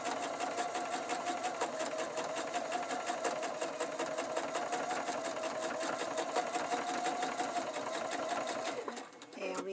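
A sewing machine stitches a large Cathedral Windows quilt with a steady, rapid mechanical rattle that runs almost unbroken, close and fairly loud, before slowing at the end.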